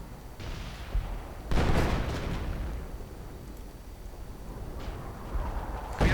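Artillery shells pound a battlefield in a World War II real-time strategy match, a sharp blast landing near the start followed by a bigger burst of rumbling impacts and a later crump, all loud with no talk.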